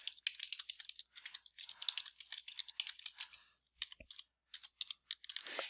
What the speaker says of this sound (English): I can go ahead and type in my label.